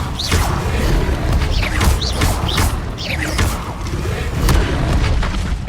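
Spells cast in Hogwarts Legacy, including the Incendio fire spell, make whooshing bursts and booming thuds that repeat in quick succession over low rumbling game effects, loud and close.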